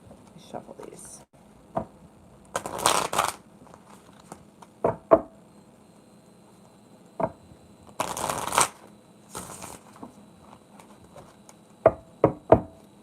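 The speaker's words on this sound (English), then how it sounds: "Shuffle these." Tarot cards are shuffled in short papery riffling bursts, two longer shuffles separated by sharp taps and knocks of the deck, close and fairly quiet with no talk over them.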